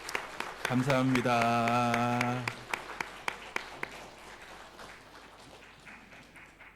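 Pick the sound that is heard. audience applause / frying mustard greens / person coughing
audience applause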